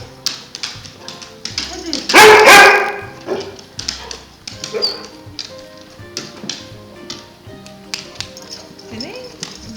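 A dog barks in short bursts around a family meeting of a baby and the dog, with a loud close yelp early on and lighter yips and taps scattered under ongoing talk.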